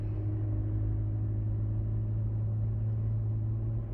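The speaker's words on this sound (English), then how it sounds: "I can hear that cold air intake just screaming up front." Car engine fitted with a cold air intake, a loud steady low roar and rumble that continues unbroken, with no voices over it.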